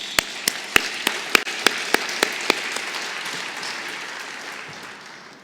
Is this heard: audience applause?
yes